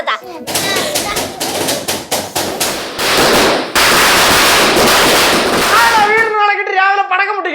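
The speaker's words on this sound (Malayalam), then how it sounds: "രാവിലെ പടക്കം പൊട്ടിക്കണത് ചിലപ്പോഴേ കണി കാണിക്കാൻ വേണ്ടി ഒന്ന് പിള്ളേരായിരിക്കും" A long string of Vishu morning firecrackers bursts in rapid, loud, crackling volleys for about six seconds, then stops abruptly, leaving fainter tonal sounds behind.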